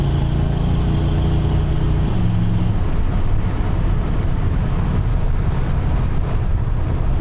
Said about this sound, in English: I do notice for sure the truck has a deeper tone to it in the exhaust.